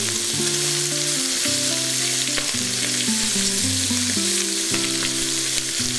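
Veal bones and cartilage browning in a pan sizzle and crackle steadily, close and constant, while a soft melodic tune plays underneath with no talk.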